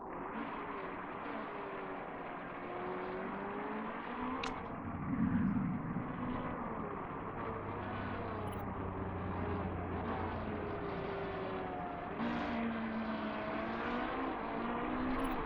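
Race cars in the Motorsport Manager game, a continuous layered engine drone with rising and falling pitch sweeps as cars pass, moderately loud and steady, a brief sharp tick partway through.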